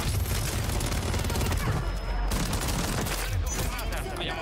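Rapid, loud bursts of automatic gunfire from a gold Wasp weapon in a shooter video game, near and continuous over several seconds, with someone talking over the shots.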